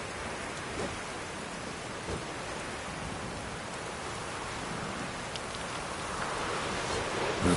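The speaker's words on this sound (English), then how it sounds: "Looks like rain." Steady rain in The Witcher video game, a dense even hiss of falling water that holds through the whole stretch and grows slightly louder near the end, with no voices over it.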